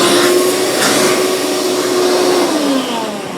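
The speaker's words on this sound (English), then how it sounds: "I'm going to start by using my wet dry vac to vacuum off as much loose debris as possible" A wet dry vac roars loud and close while vacuuming loose debris off a riding lawn mower's air filter, a steady high whine whose pitch shifts slightly as the nozzle moves over the filter.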